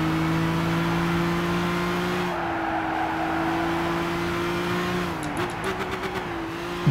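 A race car engine in Gran Turismo 6 holds a steady sustained drone that shifts in pitch as the throttle changes, heard close and loud with a brief stutter of rapid clicks near the end and no talking.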